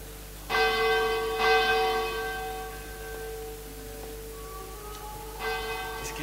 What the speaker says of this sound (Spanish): Suplicaba que parase el sonido de unas campanas.